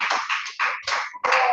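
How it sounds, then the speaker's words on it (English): A classroom of students clapping for a classmate, brief bursts of applause in quick uneven rhythm, close and moderately loud. "Let's clap for her."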